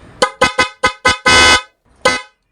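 A newly installed PIAA car horn blares in five short, loud honks, then one longer sustained blast, a pause, and a final short honk, all close and clear.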